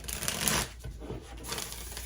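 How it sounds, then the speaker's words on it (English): A deck of tarot cards is shuffled close by, a continuous riffling, rustling patter that dips briefly midway and then resumes. "we're going to do one more good shuffle"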